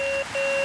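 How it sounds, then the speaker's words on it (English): FrSky vario telemetry tone on an OpenTX radio, a loud steady electronic beep that stops briefly and then resumes, heard close and alone. "if you choose tone instead of silent, then you're going to get that beep all the time"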